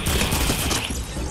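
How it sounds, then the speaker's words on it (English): Dense, loud burst of rapid gunfire in a Fortnite match, continuous overlapping shots filling the short moment. "you're shooting someone"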